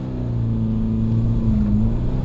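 A GTI car accelerating hard, its engine drone holding steady and rising smoothly through a gear change, loud and close.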